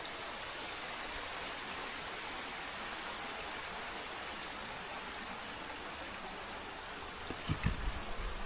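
Water rushes steadily at Mallankuzhi waterfall in Kadangode, a constant broad wash of sound heard from a distance, with a few low thumps near the end.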